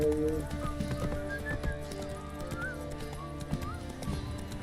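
Hooves of Roach, a horse in The Witcher 3 video game, clop in a steady galloping rhythm alongside a whinny, with game music playing underneath.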